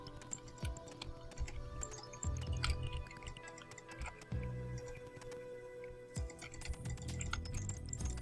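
Computer keyboard keys clatter in quick irregular bursts of taps and clicks during play of the game Gauntlet, close and fairly quiet with no talking.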